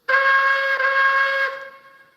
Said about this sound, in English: here's his whistle that I think is nice